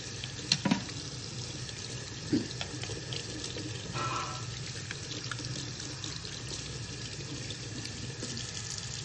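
Running tap water pours steadily into a sink while paint brushes are scrubbed and rinsed, a constant near splashing wash with a few brief knocks early on and no talking.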